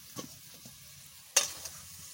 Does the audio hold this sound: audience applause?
no